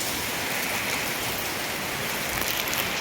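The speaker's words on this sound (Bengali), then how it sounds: "কি বাতাস বৃষ্টির পানি আসলে যে গড়ায় পড়ে ঘরের সব দিকে" Steady heavy rain from a cyclone pours down in a dense, constant hiss, with a gusty rushing wind undertone and no voices.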